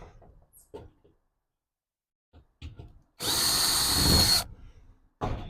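Power drill driving a screw into wood: a short burst of sharp, loud whirring close by, preceded and followed by small handling knocks and a quiet gap.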